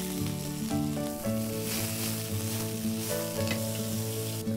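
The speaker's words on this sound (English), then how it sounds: "take a little bit of this oil in here, add that in. Oh, you can hear it sizzle." Oil hisses and sizzles continuously in a hot pan before beans are added, with steady tonal music playing underneath throughout.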